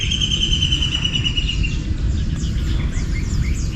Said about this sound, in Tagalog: Nagigising ako sa awit ng ibon.